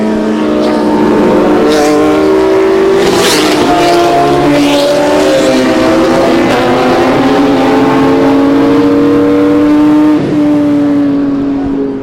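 Race cars roar off at the start of a race, several engines accelerating loudly together with rising, overlapping whines and revs, very close and dominating, with no talk over them.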